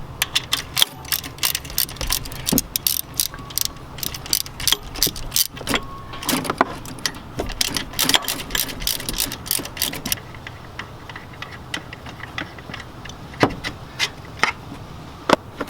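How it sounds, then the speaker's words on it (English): A hand ratchet clicks in rapid, uneven bursts, loosening 15mm alternator bolts on a 1997-2006 Chevy truck with a 4.3L engine. The sharp ratcheting comes up close and is broken by short pauses throughout. "Now the next thing I'm going to do is loosen up these two 15mm bolts"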